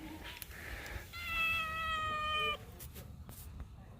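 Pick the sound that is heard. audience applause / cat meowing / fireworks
cat meowing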